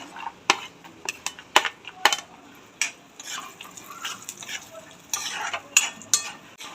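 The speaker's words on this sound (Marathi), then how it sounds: "अक्रोट पण तळून घेऊया" Walnuts frying in ghee for dry-fruit laddoos, with sharp spoon-against-pan stirring clacks at an irregular rhythm over a soft sizzle, close by.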